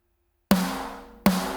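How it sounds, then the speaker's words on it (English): Two punchy snare drum hits from the Modern and Massive 2 metalcore drum kit sample, a sharp crack with a ringing body, played alone with a pause before the first and a long decay before the second. "then the snare sounds like this"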